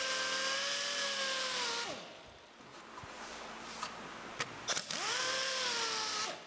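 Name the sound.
grinder cutting a rabbet in a wooden boat hull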